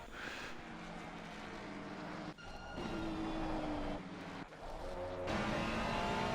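Race cars at Donington, a Porsche among them, keep up a continuous loud engine roar with shifting pitch as they drive on, with brief dips where the sound drops away.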